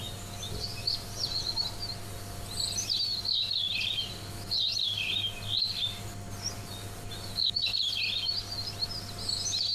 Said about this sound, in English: sounds like there might be some parrots in the background as well